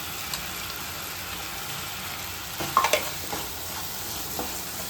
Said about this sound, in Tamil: தக்காளியும் நல்லா வதக்கட்டும்